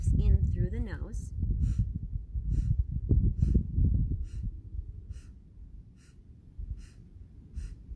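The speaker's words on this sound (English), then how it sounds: "So 8 sniffs in through the nose." A person takes a series of short, rhythmic sniffs in through the nose, about eight, evenly spaced and fairly soft. Faint breath noise and a brief voice come at the start.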